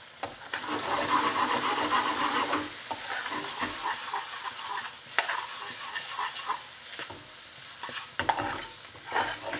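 Kashmiri chilli powder frying in a masala base for an Indian-restaurant-style tofu tikka rezala, a steady close sizzle broken up by repeated scraping stirs of the spoon, with no talk.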